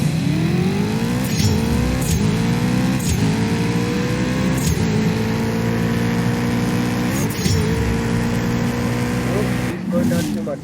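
A Ferrari F8 Tributo racing in CSR2 howls through rising revs, with sharp gear-shift breaks repeating every second or so as the pitch climbs again, loud and close, a voice talking over it.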